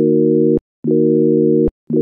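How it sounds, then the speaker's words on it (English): A sine wave synth patch in Serum, set up as an electric piano sound with no effects, plays clean sustained low notes, loud and alone, repeating in long held pulses separated by short silences. "See, it already just sounds like that with that sine wave on."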